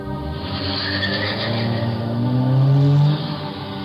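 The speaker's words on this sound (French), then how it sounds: "une voiture blanche repart" A white car speeds away on a street after gunshots, caught by a doorbell camera. The engine revs and climbs in pitch, swelling loudest near the end before it cuts off, with no talk.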